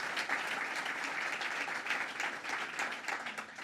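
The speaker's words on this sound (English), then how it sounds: "Another round of applause for the Wilson family." Audience applause at the dedication of a children's museum building, steady dense clapping from a crowd that holds at an even level throughout, heard at a moderate distance.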